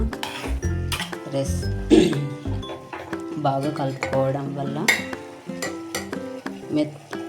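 A radish and tomato curry with curry leaves is stirred in a pan, with a spoon clinking and scraping against metal in irregular strokes under a voice talking throughout.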